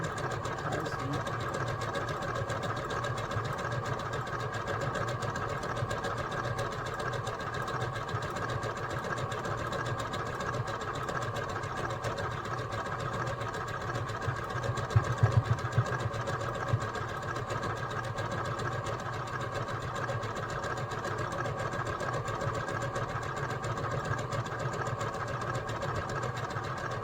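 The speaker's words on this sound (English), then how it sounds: "Especially my sewing machine tells me." Sewing machine stitching appliqué on a maple leaf garden flag, a steady mechanical hum with a brief louder burst midway, running continuously at moderate distance.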